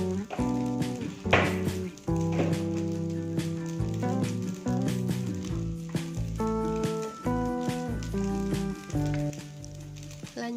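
Nasi goreng fries in a pan, giving a steady sizzle that runs the whole time beneath a bed of tonal background music.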